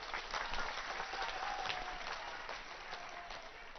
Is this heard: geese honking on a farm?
no